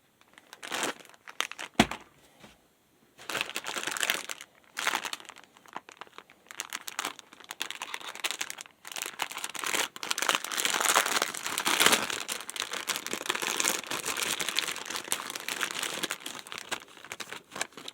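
Vacuum-sealed plastic packaging of a guitar string crinkles and crackles in bursts, close and loud, with brief pauses between handling, then steady rustling crinkles for a long stretch.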